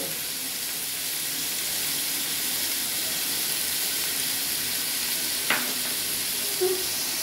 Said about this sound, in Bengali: এই নুন আর হলুদ গুঁড়ো দিয়ে আমি আমড়াগুলো হালকা করে ভেজে নেব